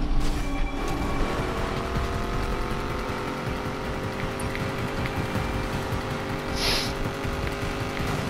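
A Koenigsegg hypercar races at high speed in Need for Speed Payback, its engine droning steadily and loudly throughout with a brief tire squeal partway through, no talk over it.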